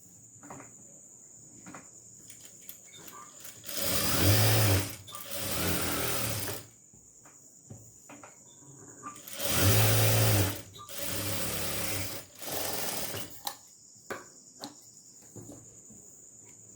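Sewing machine stitching a fabric strip in a tailoring workshop, running in several short bursts of rapid whirring separated by pauses, close and clear with no talking.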